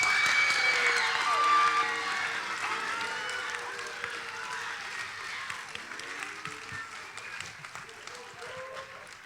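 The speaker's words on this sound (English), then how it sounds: "Please give a round of applause to Mr." An audience at a school spring festival band concert applauds in a sustained wash of clapping that starts loud and slowly fades over several seconds, with scattered cheers and no speech.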